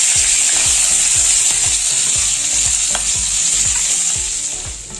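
Ginger and green chilies fry in a pan over a low flame, a loud, continuous sizzle with steady stirring scrapes beneath it, close and without any talk.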